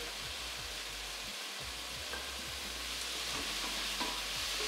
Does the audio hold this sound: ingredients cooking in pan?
yes